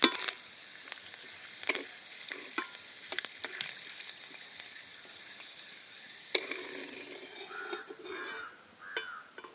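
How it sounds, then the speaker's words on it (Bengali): Curry leaves frying in hot oil in a wok, with a steady crackling sizzle, scattered sharp pops and occasional stirring clinks, while crows caw in the background. "এই 3টে যে কারি পাতাটা আমি ডাল নিয়েছিলাম, এই 3টে এবার ভেজে নেব।"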